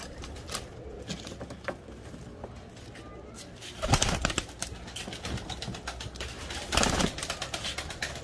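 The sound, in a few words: pigeons cooing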